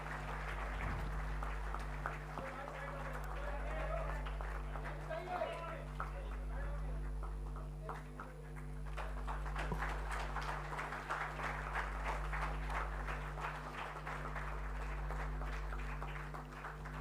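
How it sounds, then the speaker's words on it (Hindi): Audience applause at a signing ceremony between the Jharkhand government and TCPL Green Energy Solutions, a steady mid-level clapping that runs the full length, with a voice speaking over it and a low constant hum underneath. "बेहद जोरदार तालियां हम सब की तरफ से"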